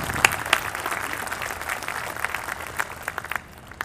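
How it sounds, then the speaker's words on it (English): Applause from an audience at an outdoor honor ceremony for astronaut Buzz Aldrin, a spread of clapping hands with a few louder near claps early on, tapering off toward the end with no talk over it. "How about a round of applause for those folks?"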